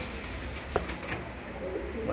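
Pigeons, including Danish and Lahori breeds kept in a loft, give soft low coos in a quiet setting, with a brief sharper sound partway through and faint background chatter.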